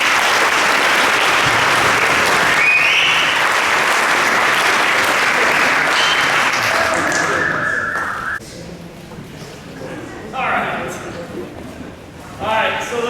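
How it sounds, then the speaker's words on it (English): Loud, close banquet-hall applause for high school football players, sustained clapping that tapers off, with a voice speaking in the room as it dies down. "Let's give these guys a round of applause"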